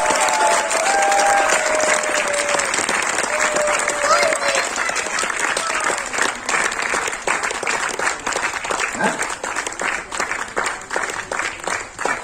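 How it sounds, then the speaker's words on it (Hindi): An audience at an app inauguration event gives a sustained round of steady, dense applause for about twelve seconds, with faint voices underneath. "जितना ज्यादा ताली बजेगा उतना मुझे लगेगा अच्छी एप्लीकेशन बनेगी।"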